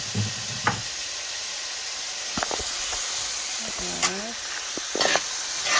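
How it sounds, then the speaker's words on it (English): Saltfish frying with seasoning in a pan, a steady sizzle and hiss running throughout while a utensil scrapes and stirs in short bursts, close and moderately loud. "I'm gonna add my saltfish because I love when my saltfish is cooked in with the seasoning"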